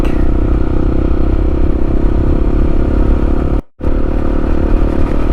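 A motorcycle rides over a corrugated road in the Wilson River Reserve, its engine droning steadily and loudly while a constant rattling clatter from the bumpy surface runs underneath, briefly cut by a short dropout.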